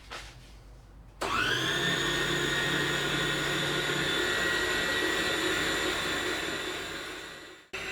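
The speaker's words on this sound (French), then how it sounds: "on va les mettre ici dans le batteur et on va commencer à battre" A stand mixer starts up and beats egg whites for macarons at low speed, a steady close whirring motor hum that holds evenly for several seconds before cutting off, with no talk.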